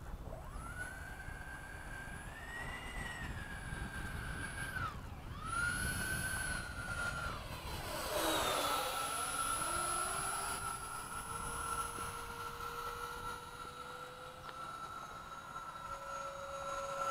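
A Freewing 90mm F-22 RC jet makes a low, slow pass in the dark at Oakdale, its ducted-fan whine rising and sweeping in pitch as it approaches and passes, moderately distant and continuous.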